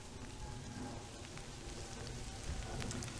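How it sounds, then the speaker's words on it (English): Heavy rain pouring steadily outdoors while wandering around Minnesota, a dense, constant hiss that fills the whole clip with no breaks or talk. "it is raining its fracking booty off on me"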